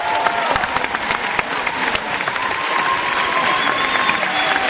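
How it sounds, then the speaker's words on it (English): A big audience at the D23 Expo Lion King 3D pre-show bursts into loud, sustained applause with scattered cheers, a dense clatter of many hands filling the hall close and full. "That's something that deserves a round of applause."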